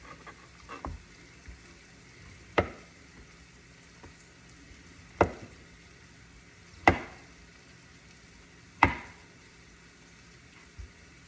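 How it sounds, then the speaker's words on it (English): A knife slicing spam on a cutting board, with sharp, distinct knocks of the blade hitting the board spaced a second or two apart over faint background noise. "put it on the cutting board, and I'm gonna slice it"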